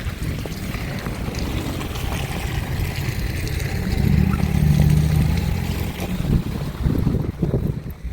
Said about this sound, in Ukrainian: Вітер, вітер на що дує, він весь час дує